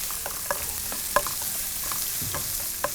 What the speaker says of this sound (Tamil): கொஞ்சம் பொன்னிறமானதும் நம்ம வெங்காயம், அதோட கூட நம்ம பூண்டு நசுக்கி வச்சுருக்க பூண்டையும் சேர்த்துருவோம் வெங்காயத்தோட.